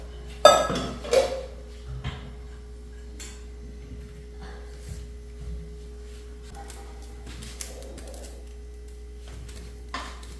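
A pan of pineapple curry is stirred, with a few sharp metal clinks of spoon against pan early on, then sparse soft taps over a faint steady hum.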